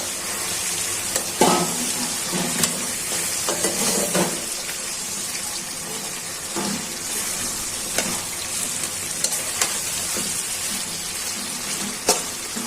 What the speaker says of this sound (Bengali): মশলাটা কষানো হয়ে গেছে, এখন ছেড়ে দিচ্ছি ভাজা মুরগির মাংস।